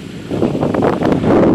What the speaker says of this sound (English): Okay, it's getting too windy